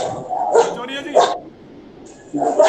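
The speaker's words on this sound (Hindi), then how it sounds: "कुत्ते भौंक रहे हैं, इस तरीके की आवाज आ रही है पीछे से।" Dogs bark in the background in three sharp bursts, each a cluster of yips and woofs with brief gaps between, picked up through a faulty microphone during an online class.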